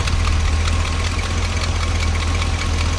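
A 1975 International Harvester engine idles with a steady, loud, close low rumble and a fast, even throbbing pulse that holds without a break.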